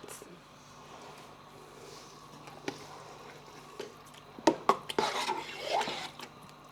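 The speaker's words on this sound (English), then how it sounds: "we're just gonna give this a stir and we're gonna bring it up to a boil" Red pepper sauce stirred in a pot, a few scattered utensil scrapes and clinks against the pot rising near the end over a quiet background.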